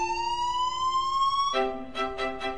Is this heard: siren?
yes